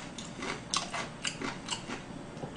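Someone chews a mung bean pancake (bindaetteok) filled with bracken and other vegetables, giving close, quiet, crisp bites and squishy chewing in irregular bursts, with no talk.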